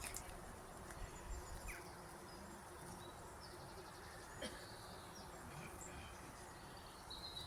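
Bees buzz outdoors as a faint, steady drone, with birdsong and dove-like cooing mixed in the background throughout.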